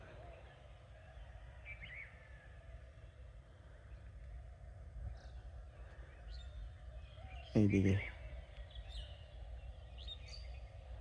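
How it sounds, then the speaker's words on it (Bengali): Birds chirp and call faintly through early-morning fog in a rural setting, with a distant low hum underneath, brief sharper calls scattered throughout, and one short spoken word. "আমি একটু চুপ থাকি, আপনার একটু পাখির আওয়াজ শুনেন।"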